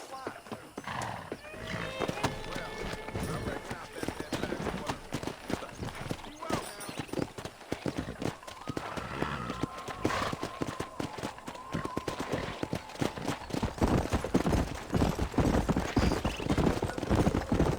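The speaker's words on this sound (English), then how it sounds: "Let's see if we can't wrangle some horses." Several horses run with rapid, overlapping hoofbeats and an occasional whinny in a Western setting from the video game Red Dead Redemption, the drumming loud and close and building toward the end, with voices heard now and then.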